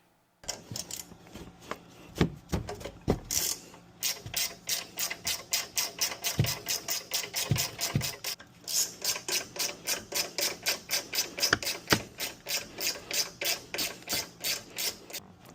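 A hand ratchet removing bolts on the strut of an 11th-generation Ford F150, its pawl clicking in a fast, steady, loud run of close metallic ticks across the whole stretch, with a few heavier knocks early on.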